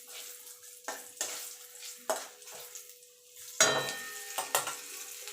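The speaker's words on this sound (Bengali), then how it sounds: "তেজপাতা আর গোটা জিরেটা একটু ভাজা ভাজা করে নেব।" Bay leaves and whole cumin seeds fry in hot oil in a wok for a spice tempering, giving a soft sizzle broken by several sharp scrapes and clinks of stirring at irregular intervals, close and moderately quiet.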